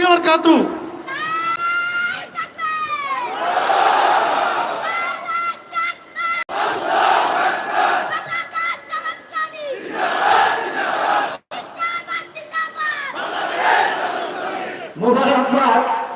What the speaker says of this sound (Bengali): আমাদের ছোট্ট ছোট্ট সোনামণি যে স্লোগান দিল